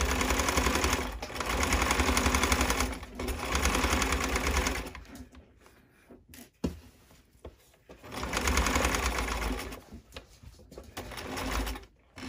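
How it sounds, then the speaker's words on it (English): A sewing machine runs a seam on a pair of boxers, whirring loud and close in several bursts with short stops between them and a longer quiet gap in the middle. "So I'm sewing up to where I did my seam allowance on this side."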